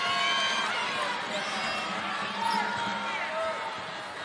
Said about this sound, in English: Tremendous applause, tremendous educated fans here this evening.